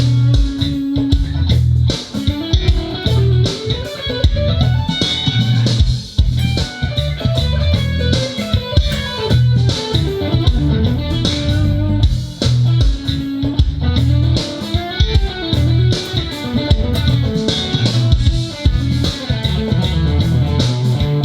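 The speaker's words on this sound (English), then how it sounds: "Okay, so that's the sound of the Dorian." Electric guitar runs busy Dorian scale lines over a dense, steady backing groove with drums and bass, loud and continuous for about twenty seconds with no talking.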